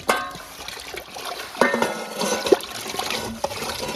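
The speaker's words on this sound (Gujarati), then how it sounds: "આપણે ટોમેટો મરચાં હરખી રીતના આપણે કમ્પ્લીટ પાણીમાં ધોઈ નાખશું" Tomatoes and chillies are washed in water in a pot in a village kitchen, with soft splashing, swishing and light clinks of the vessel in short bursts, close up.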